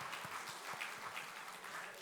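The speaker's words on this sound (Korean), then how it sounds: "우리 박수 좀 쳐주세요." A church congregation claps together at a Sunday service, a quiet, distant patter of applause that runs evenly for a couple of seconds.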